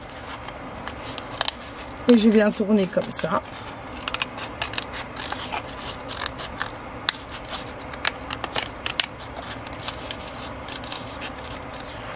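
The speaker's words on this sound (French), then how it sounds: "Je viens planter mes ciseaux dedans." Scissors cutting into cardboard to shape a windshield for a handmade Tilda-style toy car, with a run of crisp snipping and crunching followed by scattered clicks and scrapes while a person speaks.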